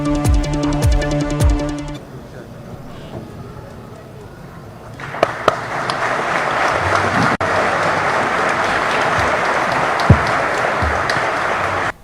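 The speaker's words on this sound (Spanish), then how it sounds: "Juan Antonio Magaña, que él sí estaba feliz aplaudiendo." Sustained applause from a crowd at a decree signing ceremony in Michoacán follows a stretch of music and a quieter pause, then the clapping builds dense and loud and holds steady to the end.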